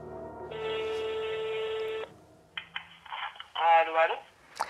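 A telephone sounds during a call: a steady tone of about one and a half seconds, then a series of short beeps and tones, close and clear, with no talk over them.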